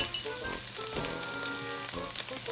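Hot cooking oil sizzling steadily in a pan, a continuous crackling hiss at moderate volume with small popping bursts, no talk.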